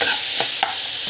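Tomato thokku sautéing in a pan gives a continuous close sizzle, with two quick spoon scrapes breaking through the frying hiss; no voices.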